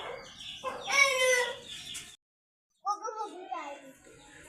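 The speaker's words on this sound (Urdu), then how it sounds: "کدھر ہے مرغی؟ انڈے والی مرغی نکالی ہے." A hen clucks and calls in a backyard coop, a short burst, a gap of silence, then more clucking, with a voice nearby.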